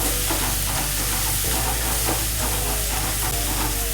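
Tomatoes frying in a pan for a bitter gourd gravy give a steady, dense sizzle and hiss with occasional stirring scrapes, close and constant throughout.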